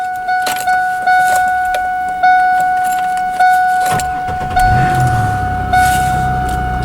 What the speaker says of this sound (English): We're going to get this car started.